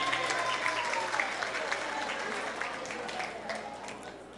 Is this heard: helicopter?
no